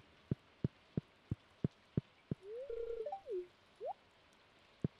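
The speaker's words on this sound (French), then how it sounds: "Pleut dehors." Rain falls outside in Stardew Valley as sparse, evenly spaced drip-like taps against a quiet background, interrupted briefly by a few soft warbling game tones.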